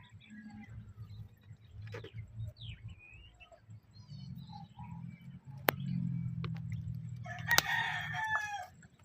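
A Brahma rooster clucks and calls in an outdoor farm setting, with low rumbling background noise, scattered bird chirps, and a couple of sharp knocks.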